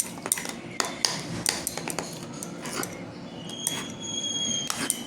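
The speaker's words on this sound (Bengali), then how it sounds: "আমসত্ত্বটা খুব ভালো করে মিশিয়ে নিয়েছি আমি।" Chopped mango leather being stirred through cake batter in a bowl for a Bengali-style mango cake, a run of clinking, scraping utensil strokes against the bowl, close and fairly steady, with no talk.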